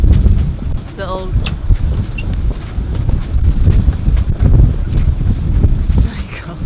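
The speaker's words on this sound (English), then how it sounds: "it's still very gusty, so we're probably hitting about 30-35 knots" Strong gusty wind roaring across the microphone while sailing a boat in about 30-35 knot gusts, a continuous buffeting rush with low rumble, loud and close throughout.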